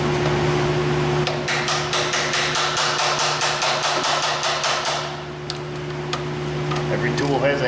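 Rapid, evenly spaced metal hammer strikes from a 3/8 tool used as a hammer during Subaru EJ25D timing belt work ring out in a quick burst, then a few scattered knocks follow over a steady mechanical hum.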